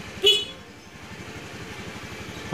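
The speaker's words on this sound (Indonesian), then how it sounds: "Lalu kita akan coba klakson." A short honk from a motorcycle horn sounds near, over a steady idling engine putter that continues afterward.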